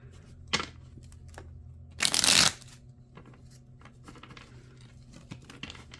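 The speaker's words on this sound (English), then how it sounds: "Let me give a couple shuffles." Tarot deck shuffled by hand, with one loud riffle of rapid crisp card flutter in the middle, and softer taps and slides of cards before and after.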